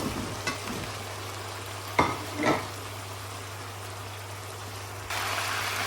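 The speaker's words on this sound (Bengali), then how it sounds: "চিকেন ফ্রাই হয়ে গেছে এখন মিষ্টি কুমড়া দিয়ে ফেলবো" Pumpkin pieces added to fried chicken in a pan and stirred, with a few sharp scraping knocks over a soft steady sizzle and a low hum.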